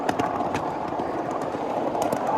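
A 7.5 inch gauge ride-on train with a flat and tank car runs along a backyard mainline strewn with pine needles, giving a steady close rolling rumble with light rhythmic clicks from the track, no voices.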